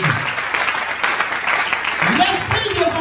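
A church congregation bursts into loud, sustained applause with some cheering, while a voice carries on speaking over the clapping.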